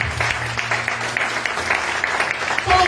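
Church congregation applauding during a sermon, a steady wash of clapping from many hands with music or organ tones underneath, moderately loud and continuous throughout.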